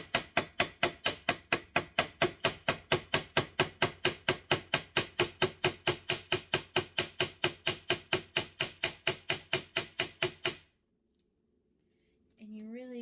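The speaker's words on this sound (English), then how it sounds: "you really just want to keep hammering it out" A hammer strikes copper wire being flattened into bee legs for a stained glass bee, about forty sharp metallic taps in a fast, steady rhythm for ten seconds, then it stops and a voice begins speaking.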